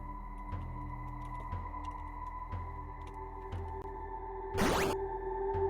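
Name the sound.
air egg sound effect from a Lua video game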